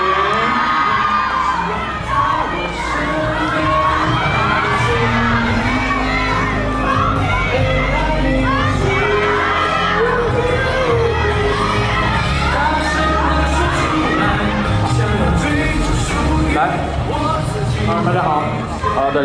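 A studio audience cheers and screams as two new performers, Wang Jing and Feng Jianyu, are called onto a variety show stage. A dense, loud crowd roar with shouts and whoops runs steadily throughout.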